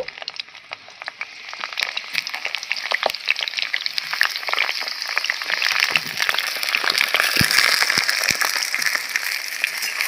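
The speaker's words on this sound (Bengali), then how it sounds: "বেগুনগুলো ভেজে নিচ্ছি।" Eggplant pieces frying in oil for a Bengali shukto, a dense crackling sizzle that starts quieter and builds to a steady close hiss with sharp pops scattered through.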